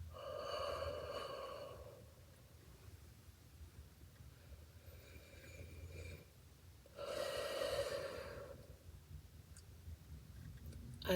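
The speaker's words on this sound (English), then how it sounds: "just breathe deeply with me" Slow, deep breaths in and out, each drawn-out inhale and exhale soft and airy over a quiet background hum, two long breaths spaced several seconds apart.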